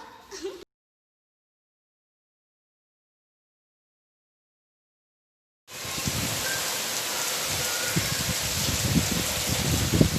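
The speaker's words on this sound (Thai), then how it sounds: "ฝนก็ตกนะคะทุกคนค่ะ อ้ ตกแรงมากเลยนะคะ" Heavy rain pours down in a dense, steady hiss after a brief bit of sound and a long stretch of silence, loud and close.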